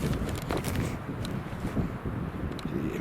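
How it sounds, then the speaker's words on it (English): Strong wind gusts through a burnt forest, a loud continuous low rumble and buffeting against the microphone with faint rustling throughout. "It's really windy today."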